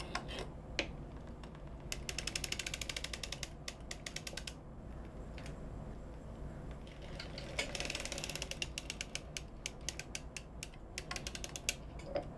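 A circular sock knitting machine being cranked, giving a steady run of rapid, crisp mechanical clicks and ratcheting that carries on for the whole stretch without a pause.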